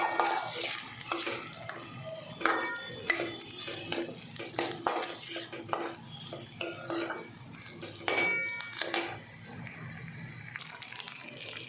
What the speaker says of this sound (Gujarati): અને ધીમે ધીમે